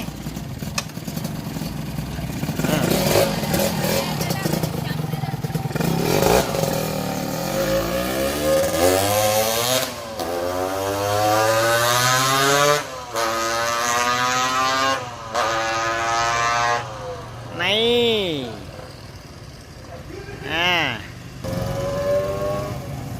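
A Victor three-gear motorcycle is ridden and revved nearby, its engine climbing through gears with rising, falling whines and sharp throttle blips toward the end, while people talk and call out over it.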